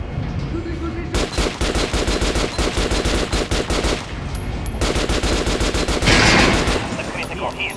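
Sustained machine-gun bursts fired at an armored target in Metro Last Light, two long rapid strings of close, loud shots separated by a short pause, ending with a heavier impact.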